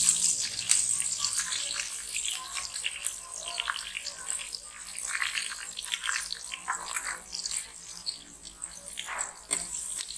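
Onions frying in a pan until golden for sarson ka saag: a continuous hiss and crackle with dense spitting pops, steady and fairly close throughout.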